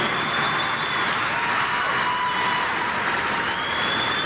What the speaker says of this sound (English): Some interesting applause from the crowd.